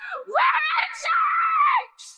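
A woman screams angrily in a horror film scene, demanding to know where her kidnapped daughter was taken; the loud, strained cries run almost continuously for about two seconds with brief breaks.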